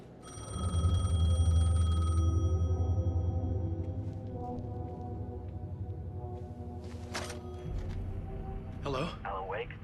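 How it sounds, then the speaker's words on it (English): A payphone rings in the video game Alan Wake II, a steady electronic bell tone sounding loud and close for the first couple of seconds, then continuing more softly under low game ambience and scattered noises. "The payphone was ringing."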